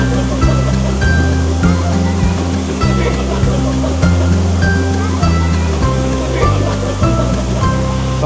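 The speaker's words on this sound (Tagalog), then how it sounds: "Ang tanging maririnig mo lang ngayon dito ay yung pagbagsak ng tubig ng falls." Kawayan Falls, a mountain waterfall on a clear river in San Luis, Aurora, pours down in a loud, constant roar of falling water, with a crowd of visitors faintly present in the background.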